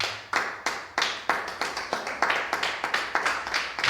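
Congregation clapping in rhythm inside a church service, a steady run of sharp, loud hand claps repeating about three times a second, close and dense with no talk over it.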